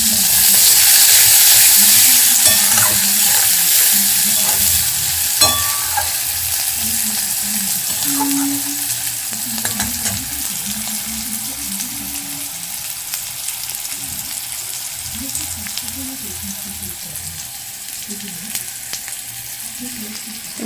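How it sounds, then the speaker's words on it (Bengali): Plenty of sliced onion sizzles and fries in hot oil as a tempering for dim beguner posto, a loud, steady close-up crackle and hiss with occasional stirring scrapes, no talking. "আর দিয়ে দেবো পেঁয়াজ ফোড়ন"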